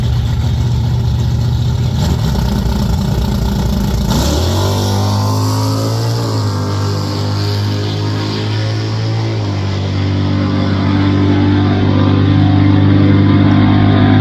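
A 1972 Dodge Challenger with a 500-cubic-inch V8 and a 1974 Duster with a 360 race down a drag strip, their engines roaring loud and close as they climb through the gears, with no talk.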